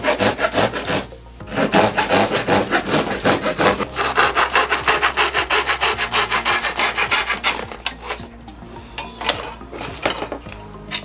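A handsaw running in a saw guide cuts through wooden battens with a fast, even, rasping rhythm of close strokes, stopping briefly near the start and again toward the end.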